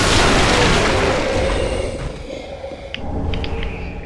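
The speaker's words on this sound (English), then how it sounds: "those are explosive barrels, but we have the ability to explode them from here" Explosive barrels blowing up in Dark Souls 3 give a loud, deep boom that rumbles and slowly fades, followed by a few small crackling pops and debris sounds, with no voices.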